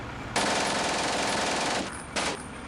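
Sustained machine gun fire bursts loud and continuous from a Combat Mission: Afrika Korps battle against an artillery spotter, with a short pause and then another burst at the end.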